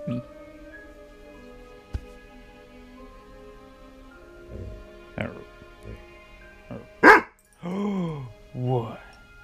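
A big dog gives a few short barks and yips near the end, close and fairly loud, after a mostly quiet stretch with faint background hum and a single sharp knock.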